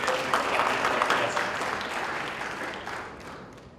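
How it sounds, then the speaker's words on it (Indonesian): A church audience applauding at a music workshop in Batam, dense clapping that starts strong and slowly fades out over a few seconds. "Berikan lagi tepuk tangan buat Tuhan kita boleh."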